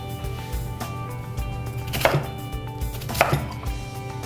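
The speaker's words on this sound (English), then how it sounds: "Cut it into squares or chunks or whatever works." A knife cuts root vegetables into chunks on a cutting board, with a few sharp chops over a low steady background hum and no talking.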